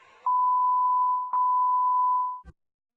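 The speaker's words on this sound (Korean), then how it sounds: "전화 내용 대부분을 삐처리해야 할 정도로 굉장히 심각한 수준이었습니다" A steady electronic censor bleep tone sounds over a recorded phone call filled with profanity, running in two long stretches broken by a brief cut, then stopping abruptly.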